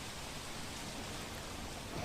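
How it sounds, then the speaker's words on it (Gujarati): Unseasonal rain falling across Banaskantha, Gujarat, heard as a steady, even hiss of rainfall on surfaces that holds without a break, with no voices. "બનાસકાંઠા જિલ્લાના અન્ય વિસ્તારોમાં પણ કમોસમી વરસાદ પડી રહ્યો છે"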